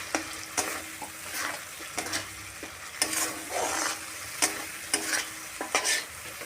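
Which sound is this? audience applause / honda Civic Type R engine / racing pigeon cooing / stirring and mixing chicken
stirring and mixing chicken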